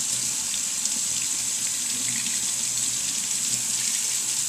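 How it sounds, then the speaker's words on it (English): A steady stream of water runs from a tap into a sink while a makeup brush is rinsed and squeezed, a constant close, even splashing rush with no talking. "can flush the water through it by just constantly rinsing and just taking your hands and squeezing"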